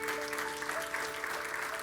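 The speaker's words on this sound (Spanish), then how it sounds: "Denle un aplauso fuerte al Señor." A church congregation's applause comes as a dense, even wash, faint and distant, over a soft sustained musical tone.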